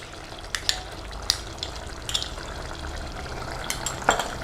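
Cream and kasuri methi being stirred into a simmering vegetable qorma, with soft scraping strokes and light sizzling from the pan, a few sharper clinks of the spoon against the pot, no talk.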